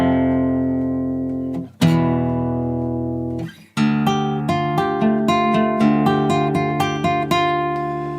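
Acoustic guitar playing the first four bars of the pre-chorus of a song: a sustained chord, a second strum, then a rhythmic run of repeated plucked notes, close and clear with no talking.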